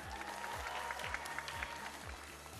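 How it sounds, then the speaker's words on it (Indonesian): A crowd claps for a contestant at the grand final of a televised talent show, steady applause over a low rhythmic music beat. "Tepuk tangan buat Reza, semua boleh?"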